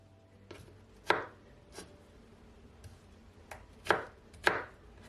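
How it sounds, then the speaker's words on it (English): A knife chops cucumber on a board in several sharp, separate cuts with short gaps between them, close and clear against a quiet room. "how you can cut your cucumber"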